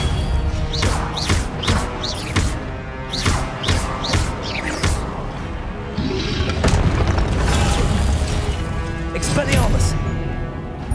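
Confringo spell blasts in Hogwarts Legacy, a rapid series of loud booming impacts and crackling bursts layered over game sounds and a voice calling out spell names.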